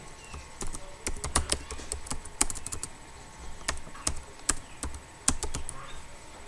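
Fast, irregular clicking of computer keys as an email address is typed, with crisp near keystrokes in uneven bursts and short pauses over a faint steady hum.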